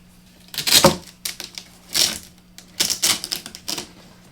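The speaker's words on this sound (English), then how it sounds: "Velcro." A hook-and-loop cover being torn off a home-built guitar speaker cabinet, several short ripping bursts in quick succession, close and fairly loud with pauses between pulls.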